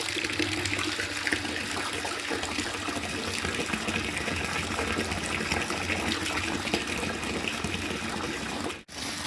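Water pumped up from a well gushes and splashes in a steady, continuous rush at close range, holding constant loudness for several seconds before a brief drop near the end.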